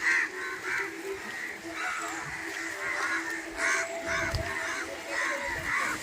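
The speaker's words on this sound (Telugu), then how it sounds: "కాకులు చూడు ఎలా తిరుగుతున్నాయి" Crows circling over a hillside village, giving a series of harsh caws at irregular intervals, moderately distant, over a quiet outdoor background.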